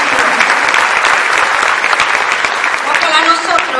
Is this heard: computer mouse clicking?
no